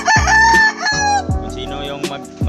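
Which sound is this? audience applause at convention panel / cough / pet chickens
pet chickens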